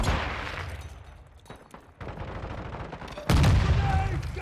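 Gunfire and an explosion ring out in the video game Call of Duty Modern Warfare II DMZ: dense rattling shots, a lull, then a sudden loud blast near the end, close and harsh.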